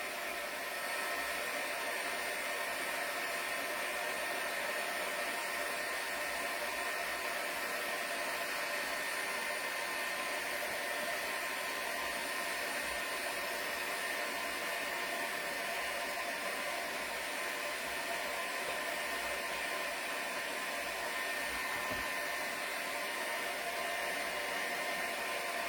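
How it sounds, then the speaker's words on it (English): A heat gun used for heat embossing on cards blows a steady, hissing, whooshing rush of air. The sound is continuous and even for the whole stretch, moderately loud with no voices. "You can hear the heat gun going."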